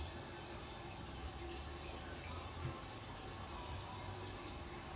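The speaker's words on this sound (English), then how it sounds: "I have water coming from the well" Water flowing from a well makes a steady, faint rushing wash that holds even and continuous throughout, with no voices.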